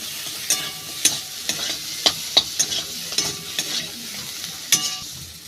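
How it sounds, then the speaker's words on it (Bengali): Dried green mango pieces being stirred and fried with spices in a pan, a steady sizzle broken by sharp, repeated scrapes of the spoon, close and fairly loud with no talking. "মশলার সাথে ভালো করে কষাবো।"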